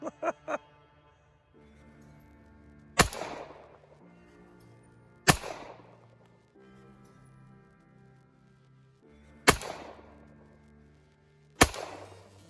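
A 1918 Colt 1911 pistol fires four loud, sharp shots spaced a couple of seconds apart, each with a short ringing decay, and brief clinks are heard between them.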